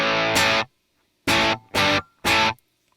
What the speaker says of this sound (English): so I'm going to turn that off, and now the amp will sound like this